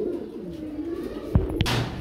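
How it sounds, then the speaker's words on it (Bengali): Pigeons kept in a pen cooing softly with low, rolling calls. A couple of sharp knocks and a rustle come near the end, and no one speaks. "খুবই সুন্দরের মধ্যে আরেক জোড়া কবুতর দেখেন"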